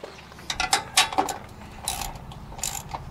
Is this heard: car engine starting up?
no